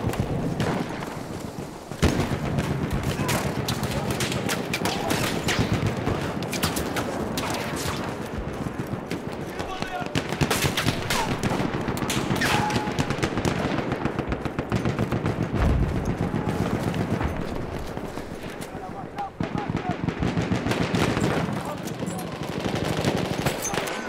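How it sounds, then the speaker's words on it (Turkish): Sustained, loud machine gun fire from Battlefield 1 multiplayer on the Achi Baba map, dense bursts of rapid shots running almost nonstop with scattered explosions and battle noise, with a voice briefly heard in the mix. "Makinalı tüfek!"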